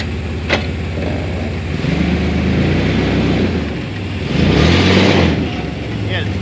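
A car accelerates hard in four-wheel drive with its wheels spinning; the loud engine drone climbs and surges close by, swelling again toward the end.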